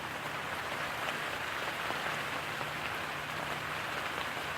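Steady rain pours onto a tarp in windy North Carolina weather, a dense, even patter that holds constant throughout without any voices.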